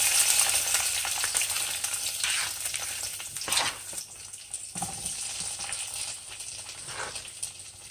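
Vegetables seasoned with adobo are tossed into hot oil and sizzle loudly, a bright crackling hiss with a few sharp bursts as pieces hit the pan or get stirred, and no voices.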